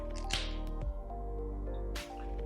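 Beer from a can pours into a bowl holding flour and a cracked egg for fish batter, with a short liquid splash and gurgle followed by a second splashing pour.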